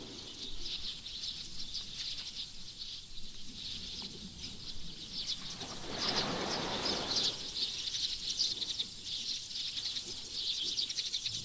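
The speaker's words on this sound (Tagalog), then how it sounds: "Grabe, ang daming ibon." Many birds chirping and calling together in a steady, high dawn chorus at a beach resort in Gubat, Sorsogon, Philippines, with a brief burst of rustling noise midway.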